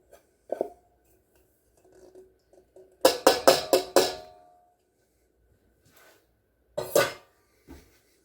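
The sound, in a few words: mixing salmon cake mixture with green onion and dill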